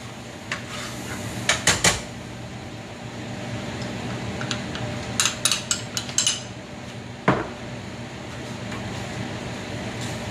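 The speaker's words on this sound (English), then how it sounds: "So we call this a roux, R-O-U-X. So you can use a whisk." A whisk scrapes and clinks against a metal pan while roux is made in a kitchen, giving sparse metallic taps over a steady fan hum.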